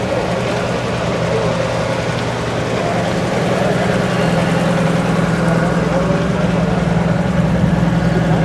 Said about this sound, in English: Land Cruiser's rolling in.